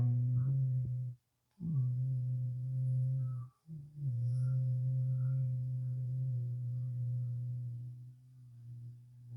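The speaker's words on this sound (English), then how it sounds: "humming sound." A person hums steadily through closed lips during pranayama breathing with the ears and eyes covered, a low sustained drone broken by two short pauses for breath and then continuing evenly.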